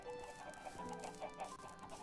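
Chickens clucking in a chicken coop in a video game, heard as quiet, scattered clucks over a soft background with no talking.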